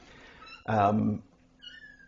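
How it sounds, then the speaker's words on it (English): A mother cat meows once, a clear drawn-out call of about half a second, followed by a fainter, shorter cry, in a quiet indoor room. "sometimes you hear her meowing a little bit here and there"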